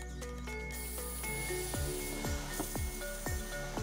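A herbicide sprayer nozzle starts discharging liquid once the valve opens, turning into a steady close spray hiss, with faint rhythmic pumping or knocking underneath and no speech.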